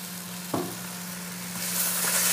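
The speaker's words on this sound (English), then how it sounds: "Sausages, onions, all browning." Sausages and onions brown in a pan with a constant frying sizzle and a low hum, a quick stirring scrape early on and the hiss swelling louder toward the end.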